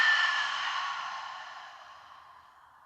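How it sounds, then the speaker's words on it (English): A long, slow breath out during a vinyasa yoga session, a soft airy exhale that fades gradually, close and alone. "Big breath out."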